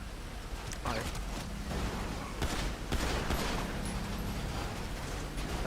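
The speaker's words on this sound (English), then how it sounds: "That's the combat pistol" Combat pistol fire in a PS3 online shooter game, sharp shots popping in a rough sequence through a busy, noisy mix, a couple of louder cracks standing out near the middle and end, with a voice talking over it.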